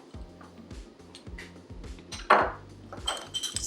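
Spoon clinking and scraping against a bowl while baking soda and oil are stirred into a thick paste, with repeated close, light taps and one sharper clank midway, no voices.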